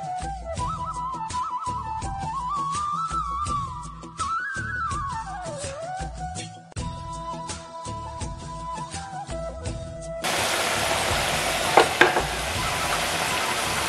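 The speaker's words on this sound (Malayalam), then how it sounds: "വെളിച്ചെണ്ണ നന്നായി ചൂടായി വന്നതിന് ശേഷം വേണം നമ്മൾ ഉപ്പേരി ഇട്ട് കൊടുക്കാൻ വേണ്ടി" Banana chips fry in hot coconut oil, heard first under a melodic music track, then as a loud, open bubbling sizzle alone during the last few seconds, with a couple of sharp clatters.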